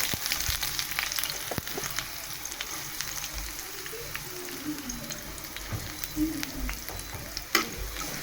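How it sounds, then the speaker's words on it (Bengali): Chopped onions fry in hot soybean oil in a pan, a bright crackling sizzle broken by clicks and scrapes as they are stirred, heard up close without talk. "পেঁয়াজ কুচিগুলো ভালো মতো ভেজে নেব নেড়ে চেড়ে।"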